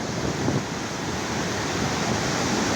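Floodwater rushes over the Khoraha dam in heavy monsoon rain, a loud, unbroken roar of churning water filling the entire moment without pause.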